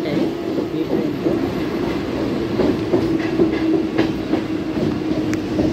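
A Mumbai local train at Thane station gives a steady, close rumble with rhythmic clickety-clack of the wheels and faint squeals, continuous throughout with no talk.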